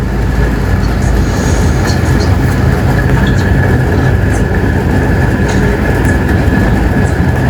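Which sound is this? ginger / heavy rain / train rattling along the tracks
train rattling along the tracks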